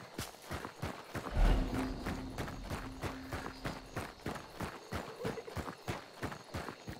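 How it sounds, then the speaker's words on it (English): Steady clip-clop of horse hooves at a brisk, even rhythm in the video game Hunt: Showdown, fairly close, with a brief low thump and hum partway through. "There's a freaking horse there too?"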